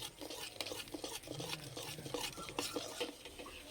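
A utensil stirs melting sugar for caramel in a pan, with soft repeated scraping and light clinks against the metal, faint and close, continuing in an uneven rhythm.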